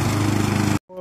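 A Honda lawn mower engine runs with a loud, steady, close drone, then cuts off abruptly, leaving a fainter sound behind.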